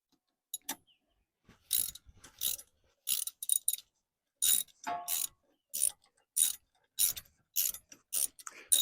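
A crescent wrench ratchets a grille guard bolt on a tractor in short, irregular bursts of metallic clicking separated by quiet gaps, close by.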